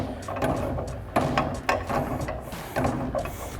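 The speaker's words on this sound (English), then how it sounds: "Now I'm going to release the spring under pressure so we can take the cap and the strut bearing top off." A compressed strut spring released from a Mustang strut during a lowering-spring install, with repeated metallic ratcheting clicks and clunks from a spring compressor tool, close and moderately loud, in short irregular bursts.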